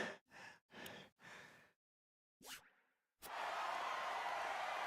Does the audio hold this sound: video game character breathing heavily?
yes